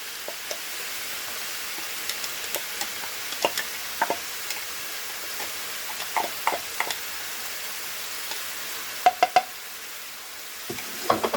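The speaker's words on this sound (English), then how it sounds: "Just frying up this hamburger meat." Hamburger meat with onions sizzles steadily in a pan, a soft continuous hiss broken by scattered clicks and scrapes of a utensil stirring.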